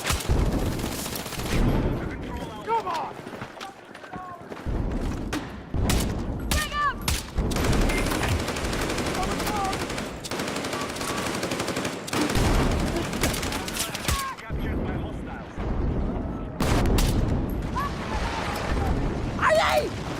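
Automatic weapons in a video game firefight keep up a dense, nearly continuous clatter of loud, close bursts for twenty seconds, broken by a few short lulls, with shouted voices mixed in.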